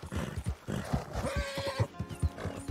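A horse in the Western video game Red Dead Online whinnies loudly and close, a rising neigh set among clip-clopping hooves and snorts.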